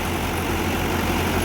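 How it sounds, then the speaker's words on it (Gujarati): A tractor engine idles close by with a dense, steady low rumble and a constant mechanical vibration that stays even through the short stretch, with no voices. "આપણે ટ્રેક્ટર ચાલુ કર્યું છે"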